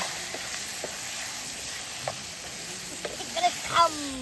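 Meat and potatoes frying together in a pan give a steady, soft sizzling hiss, broken by a few light clicks and small pops near the end.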